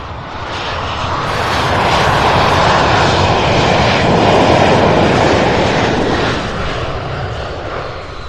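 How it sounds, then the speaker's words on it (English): An American Airlines Embraer E-175 jet passes overhead at an airport, a loud broadband engine roar that swells and holds steady, then eases slightly at the end. "this is the E-175 American Airlines."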